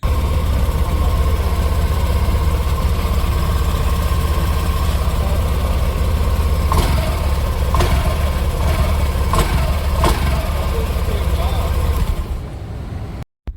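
A Honda Activa 110 BS6 scooter engine idles with a steady low, throbbing exhaust rumble for a long stretch, a few clicks breaking in before it cuts off abruptly.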